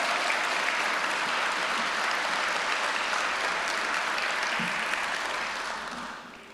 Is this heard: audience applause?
yes